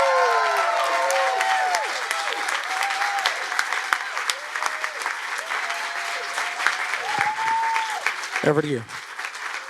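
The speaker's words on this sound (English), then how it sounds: "please give a big, big applause to Phoebe-Rae Taylor." Audience applause following a film Q&A, steady clapping from a crowd that runs under a person speaking over it and fades toward the end.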